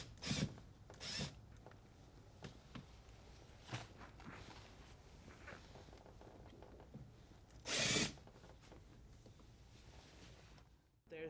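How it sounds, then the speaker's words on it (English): A power drill backs two screws out of the weather stripping on a convertible top, giving a few short, separate whirring bursts with one longer run near the end and quiet handling sounds between them. "to take this weather stripping off, I gotta take these 2 screws out."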